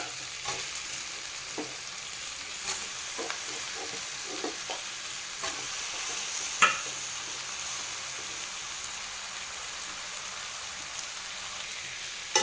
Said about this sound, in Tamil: சிக்கன் ஆட் பண்ணி இதை நல்லா மிக்ஸ் பண்ணி விட்டுருங்க